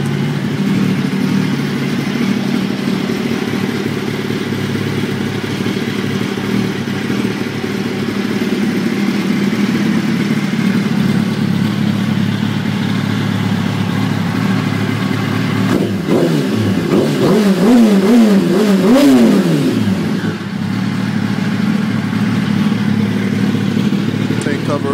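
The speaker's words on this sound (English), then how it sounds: "Loud ass exhaust." A 2004 Yamaha R1 fitted with a Two Brothers M2 slip-on exhaust idles with a steady, throaty drone under ongoing talk, then revs in a brief rising surge near the end.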